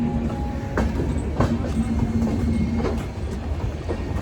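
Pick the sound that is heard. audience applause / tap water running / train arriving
train arriving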